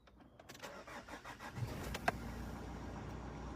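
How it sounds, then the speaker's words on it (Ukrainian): A car engine cranks and catches, then settles into a steady running rumble, heard close up with no talk. "Так працює двигун."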